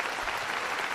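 Canned applause from a soundboard button, a dense steady wash of clapping and light crowd noise at even loudness for about a second, with no voices over it.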